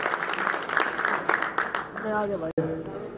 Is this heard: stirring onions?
no